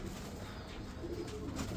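Baghdadi pigeons coo softly in a loft, low murmuring calls repeating under a constant faint background hiss, no talking.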